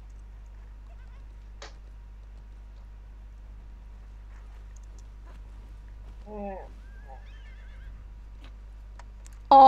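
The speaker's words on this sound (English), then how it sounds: "Why does my horse just want to jump off everywhere?" A horse whinnies briefly in the online game Alicia Online, a short, faint neigh rising out of a quiet, hum-filled background, followed by a sudden louder burst at the very end.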